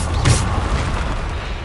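Bombarda spell explosion in the video game Hogwarts Legacy, a single deep boom bursting near the start and then rumbling away into a lingering low roar.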